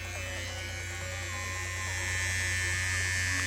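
An Elora electric rechargeable hair trimmer runs continuously while cutting hair, a steady close buzzing hum with a bright high whine that grows slightly louder toward the end.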